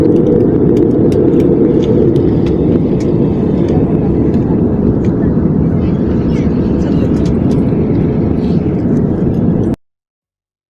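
An airliner cruising at 40,000 feet fills the cabin with a loud, steady, broadband roar for about ten seconds, then cuts abruptly to silence.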